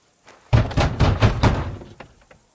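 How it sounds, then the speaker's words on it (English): A heavy wooden gate in Kingdom Come Deliverance 2 is knocked on in a quick series of about five loud, dull thuds, close up and with no talking. "Yep, guessing knocking works."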